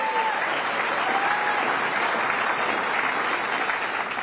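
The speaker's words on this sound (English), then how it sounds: "Give him another round of applause." Steady, sustained applause from an audience at the governor's 2012-13 executive budget address in Yonkers, a dense even wash of clapping with no talk over it.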